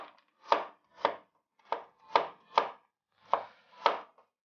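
A knife chops celery into cubes on a board for pasta bolognese, seven crisp, separate cuts at a steady unhurried pace, close and clear with no talking.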